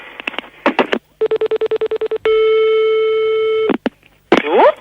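A telephone line plays a burst of dialing tones, a fast run of evenly spaced beeps and a long steady tone, then a short pause and rising warbling tones, all loud and close with no voices.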